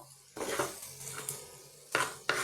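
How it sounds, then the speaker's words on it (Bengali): Ground coriander, cumin, ginger, radhuni and cinnamon being mixed in a pan with a little water, a utensil scraping and clinking against the pan in several short, close strokes with no talking. "এবার এই জিনিসগুলো আমি সব ভালো করে মিশিয়ে একটু জল দিয়ে কষিয়ে নেব"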